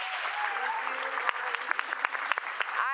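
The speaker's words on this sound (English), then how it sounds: "can we just give a round of applause to these amazing panelists?" Audience applause for panelists at a Duke Forest annual gathering, a run of claps that thins out while someone speaks into a microphone over it.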